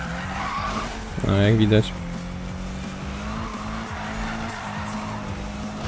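Tires squeal in a short loud skid as a car drifts in the racing game Need for Speed (2015), over a steady engine drone while someone comments.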